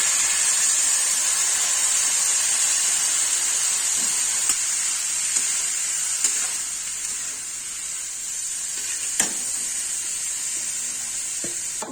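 Cabbage dropped into hot oil with boiled, patted-dry soybeans, giving a steady bright hiss of sizzling close by with a few faint clicks of utensils, no talking.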